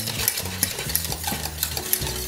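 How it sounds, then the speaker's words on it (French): A banana mixture is stirred in a pan over low heat, with rhythmic scraping strokes roughly every half second over a soft sizzle, close and moderately quiet with no talking. "on allume le feu à feu doux et on continue de remuer"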